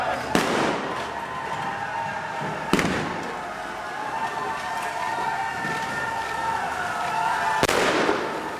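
Pyrotechnic explosions on a film set for a hospital car chase and battle sequence: three sharp blasts, at the start, near the middle and near the end, ring out over a sustained siren-like wail and crowd noise.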